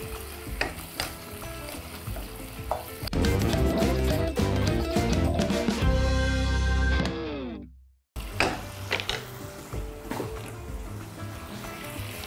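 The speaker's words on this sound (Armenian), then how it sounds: "մեկ-երկու րոպե տապակելուց հետո կավելացնենք եռացրած ջուր" Beef for garlic-sauce beef fries loudly in a pot with stirring scrapes, then boiling water is poured in with a surging hiss that cuts off abruptly; quieter simmering and clinks follow, no talking.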